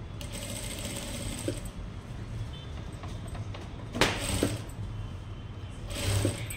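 A sewing machine stitches a puff blouse sleeve in short quiet runs, a soft steady mechanical whir broken by a couple of sharper clunks and pauses, close and alone.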